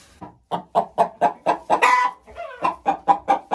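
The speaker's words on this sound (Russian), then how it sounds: "А вот так курочка сообщает о том, что она снесла яйцо." A hen clucks after laying an egg in a steady series of short, loud calls, with one drawn-out squawk in the middle, close by and alone.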